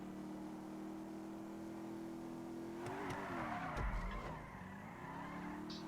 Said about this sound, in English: I'll just hit the pedal to the metal. And then just do a load of weird handbrake turns.